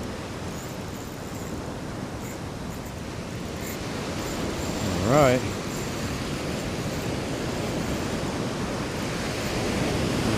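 Ocean surf rolls and breaks continuously along a beach where anglers fish for striped bass, a steady loud wash of waves with wind, and a brief spoken remark partway through.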